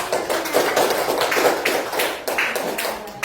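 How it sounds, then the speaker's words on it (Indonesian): A classroom of primary-school pupils claps together after a group presentation, a steady dense patter of many hands that stays loud and continuous throughout, with no talk over it. "Kasih dulu tepuk tangan."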